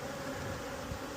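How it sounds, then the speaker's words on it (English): A steady, dense buzz of many honeybees droning close by inside a queenless hive, constant and fairly soft, with no talking. "There's a ton of bees in here."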